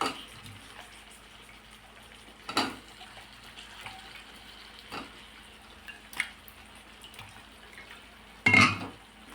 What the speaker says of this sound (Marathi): आता यात आपण ही मिठाच्या पाण्यातली वांगी